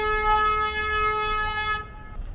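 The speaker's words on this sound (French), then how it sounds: "Bon, ça klaxonne, hein, comme en Mongolie finalement" A car horn blares in traffic on a road in China, one long loud sustained honk over road noise that stops abruptly, followed by faint traffic rumble.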